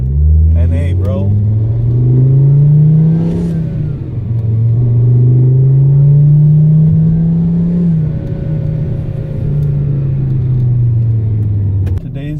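A naturally aspirated car engine revs up and eases off in several slow, smooth waves, with a deep hum rising and falling. Someone talks over it at the start and end.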